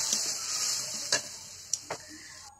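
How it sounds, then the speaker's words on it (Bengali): Spice paste with salt and turmeric sizzling and frying in a pan, a steady hiss with a few soft clinks and scrapes of the stirring spoon. "দিয়ে এখন সুন্দরভাবে নেড়ে চেড়ে মশলাটাকে কষিয়ে নিই।"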